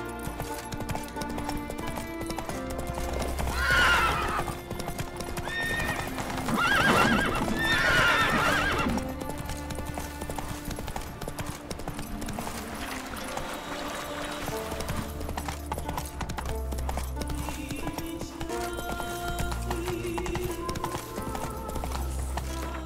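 Roach, Geralt's horse in The Witcher 3, gallops with rhythmic clip-clop hoofbeats and lets out loud neighs and whinnies in the first half, hooves continuing steadily afterward over a faint game ambience.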